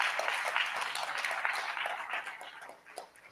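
Audience clapping at a school ribbon cutting ceremony, a fairly quiet patter of many hands that gradually thins and fades, with a few sharper individual claps near the end.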